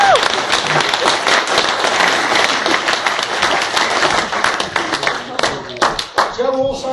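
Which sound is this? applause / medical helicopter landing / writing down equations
applause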